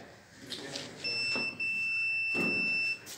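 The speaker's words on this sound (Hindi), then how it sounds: "बजर मोड पे फ्यूज को जैसे चेक करते हैं" A multimeter in buzzer mode sounds a steady, clear electronic beep lasting about two seconds while testing the fuse of a microwave oven, then cuts off.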